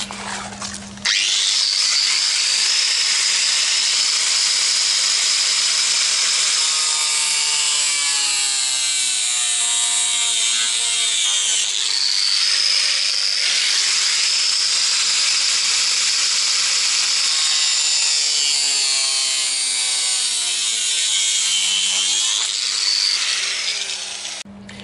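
A power tool cuts sheet metal for a Citroën Traction 11B door panel in a long, loud, continuous grinding whine that shifts in pitch as it works along the cut, then stops.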